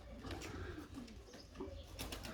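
A newly paired pigeon coos in a coop while chasing the female, with soft repeated cooing at close range over a low, steady background.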